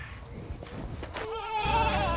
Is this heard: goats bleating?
yes